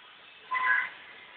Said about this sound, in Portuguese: Esses são os meus dois gatos, Mike e Nain.